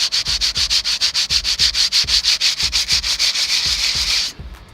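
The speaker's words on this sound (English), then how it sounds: "and rub the brake pads on it" Brake pads for a Toyota Crown JZS175W rubbed back and forth on sandpaper laid on a flat surface, about two dozen quick rhythmic rasping strokes, close and loud, ending abruptly.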